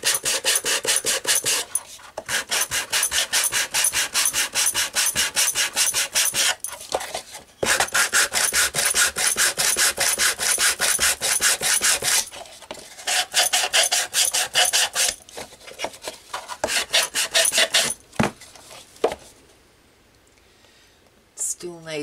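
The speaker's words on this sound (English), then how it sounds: "what I could do is sand a bit off" Dense, rhythmic rasping of sandpaper rubbing on wood while a piece of an ink pad storage unit is trimmed down, with loud, rapid strokes in bursts separated by short pauses before fading out.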